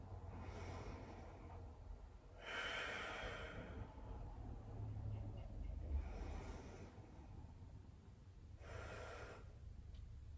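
Slow, deep breaths during a yoga pose in a home workout, with several soft inhales and exhales spaced a few seconds apart. They are faint and close over a low background hum, with no talking.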